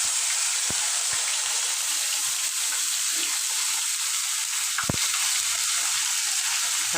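Chopped garlic sizzles in hot oil with a steady, loud, bright hiss, broken by a couple of sharp clicks and a brief pop near the end.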